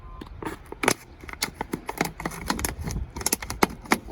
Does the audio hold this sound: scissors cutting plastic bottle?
yes